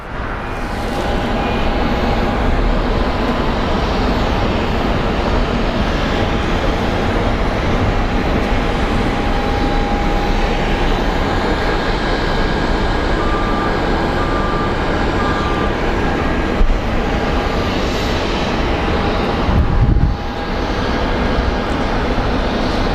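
Airliners including a Boeing 757 and an Airbus at Phoenix Sky Harbor International Airport, heavy continuous jet engine roar, loud and steady throughout with no talk.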